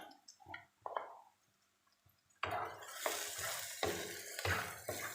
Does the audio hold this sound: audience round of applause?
no